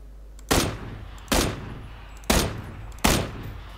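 Four loud, separate gunshots ring out in PUBG, spaced roughly a second apart, each a sharp close blast with a brief decaying echo over a low steady hum.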